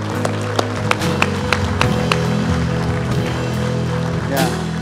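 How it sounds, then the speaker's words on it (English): A church congregation applauding fathers, with scattered sharp claps over a steady sustained hum and a voice speaking throughout. "Would y'all give them a round of applause real quick?"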